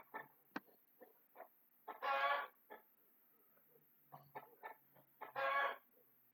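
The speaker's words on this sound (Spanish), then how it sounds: "ese gallo me está molestando acá" A neighbour's rooster crows twice at moderate distance, with scattered clucking in between and no talk over it.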